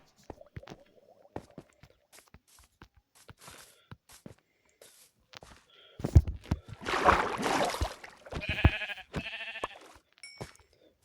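Sheep bleating in the Minecraft video game during a hardcore survival run: a few short bleats cluster midway through, between sparse clicks and footstep-like taps, with no talking.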